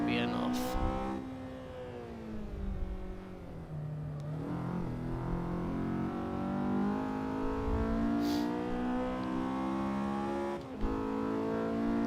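A race car engine in a sim racing video game, a steady loud drone that rises and falls through the gears as the car brakes and accelerates, with brief bursts of tire noise.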